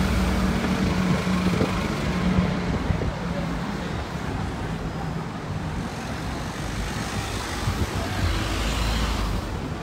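Busy street traffic in London's West End, with buses and taxis passing: a steady, dense roadway roar of engines and tyres, fairly close, with low engine rumble and some wind buffeting, continuous throughout.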